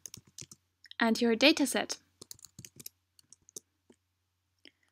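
A command is typed on a computer keyboard, with quick scattered key clicks before and after a short spoken phrase, fairly close and clear.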